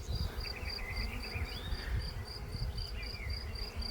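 Bees buzz faintly around a bait hive trap outdoors after a swarm has settled, a low continuous hum with high, repeated chirping insects or birds in the background.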